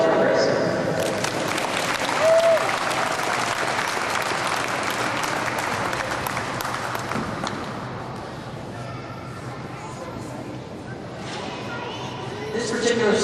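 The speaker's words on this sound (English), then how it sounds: "Big round of applause for Chris." A crowd applauds at a locomotive turntable demonstration, a dense wash of clapping that fills the clip and slowly thins toward the end, with voices mixed in underneath.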